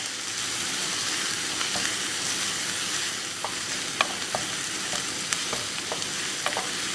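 Sliced onions sauté in a pan, giving a continuous close sizzle with scattered sharp crackles and pops, plus occasional light stirring scrapes, no voices.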